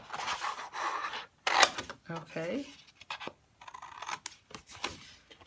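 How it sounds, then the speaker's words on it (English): Scissors snipping through paper cardstock for a box project, several short crisp cuts between bursts of nearby talking. "You can use a pair of scissors or you can use a trimmer"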